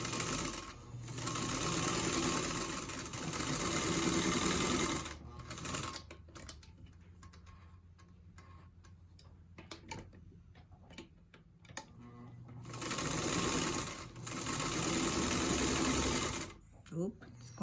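Sewing machine stitching a 1/4 inch quilt seam: rapid ticking needle clatter in steady runs separated by a quiet stretch of faint handling, close and moderately loud, with a voice speaking during the pause.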